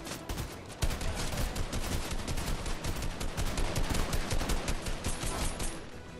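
Video game gunfire in a trios match, dense and continuous: rapid automatic bursts and overlapping shots crackle without pause, loud and close, with a sharper burst just under a second in and no talking.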